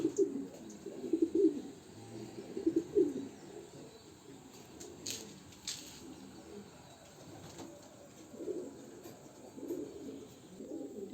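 A racing pigeon in a loft cooing in low, soft repeated phrases, close and fairly quiet, with faint background rustling and a few brief knocks.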